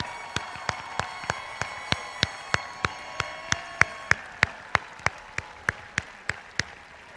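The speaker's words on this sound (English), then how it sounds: "Let's give one more round of applause to the class of" Applause for the graduating class of 2017 at a high school graduation ceremony, sharp claps landing in a regular rhythm over a faint crowd murmur.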